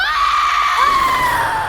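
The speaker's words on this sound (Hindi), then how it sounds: "ये किसकी चीख है?" A loud, piercing scream in a horror drama episode set in a burnt college, one sustained high cry that wavers and slowly falls in pitch, close and dominant with no talk over it.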